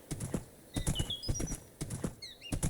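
A horse in Minecraft trotting, with a quick run of light, close clip-clop hoof taps in irregular bursts and a couple of short high squeaky whinny-like calls near the middle and end.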